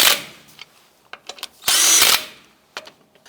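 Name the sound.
power tool snugging down wheel lug nuts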